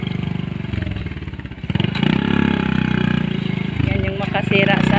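Motorcycle engine running steadily through the clip, a continuous mid-pitched drone that swells slightly after the first two seconds while people talk over it.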